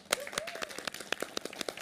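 Applause and clapping from a studio audience at a reality show trophy ceremony, with sharp, uneven claps spread through the clip.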